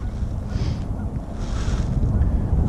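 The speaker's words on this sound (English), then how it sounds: "I don't know how good the audio is today because it is fairly windy out here." Wind buffets the microphone in a continuous low rumble by a pond, gusting slightly louder toward the end.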